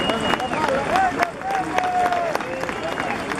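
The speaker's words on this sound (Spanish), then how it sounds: "Un aplauso para él." Audience applause at a ceremony honouring masters of Ayacucho music, a dense steady patter of many hands clapping with crowd noise and faint voices mixed in.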